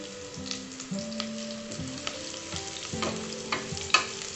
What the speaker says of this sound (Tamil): வெங்காயம் நமக்கு நல்லா வதங்கி வந்துருச்சு.